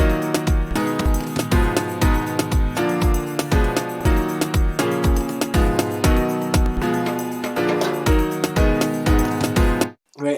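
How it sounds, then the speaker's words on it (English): A synth chord progression built with the Captain Plugins MIDI tools plays alone, with sustained layered chords over a steady, punchy low beat, loud and continuous until it cuts off near the end. "Now I made this chord progression in Captain Plugins."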